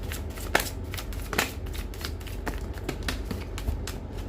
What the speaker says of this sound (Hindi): चलिए अब एंजल से भी 2 कार्ड ले लें